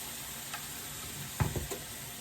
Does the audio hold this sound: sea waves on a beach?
no